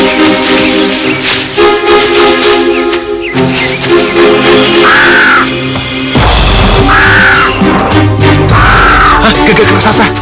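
A giant crow caws in a fantasy adventure setting, giving three rising-falling calls in the second half over a loud, dense musical and effects bed with booming low hits; no one speaks.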